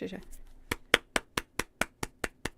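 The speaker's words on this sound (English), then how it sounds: "Should we do a clapping pickup for the second part?" Single pair of hands clapping a series of about ten sharp, evenly spaced claps in a quiet room as a sync slate for a recording, each crisp and close.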